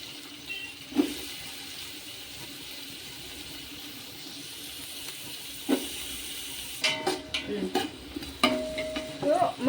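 Sliced onions tossed into hot oil over roasted green chillies for a chicken biryani, frying with a steady soft sizzle, several sharp clinks and scrapes of a spoon against the pan, busier toward the end.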